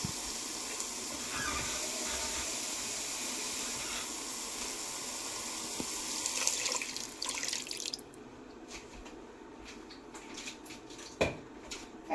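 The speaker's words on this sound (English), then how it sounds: "I always add in some water." Water is poured into a curry pan, a steady faint rushing splash that continues for several seconds before cutting off, followed by quiet kitchen clatter.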